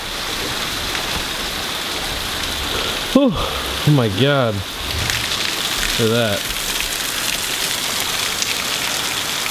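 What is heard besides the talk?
heavy rain pouring outside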